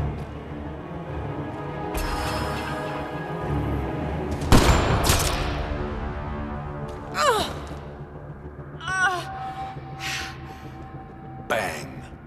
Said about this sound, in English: Sniper, his sights are set on Sloane.